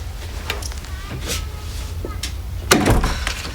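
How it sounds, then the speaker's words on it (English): An interior door is shut in a house's front room, landing as a single sharp thud near the end after a stretch of quiet room noise and faint movement, with no talk over it. "Shut the door behind you."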